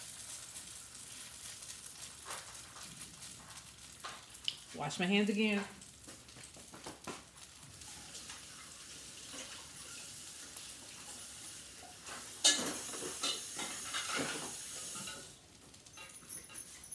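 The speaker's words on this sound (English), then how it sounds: "You're frying it, you're not boiling it." Salmon croquettes fry in a pan two at a time, giving a steady soft sizzle with a brief louder crackle, while a person talks over the cooking.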